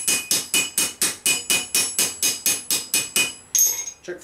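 Repeated sharp hammer strikes tighten a rivet on medieval armour, about fourteen evenly spaced ringing metallic blows up close, followed by a brief scrape and clatter at the end.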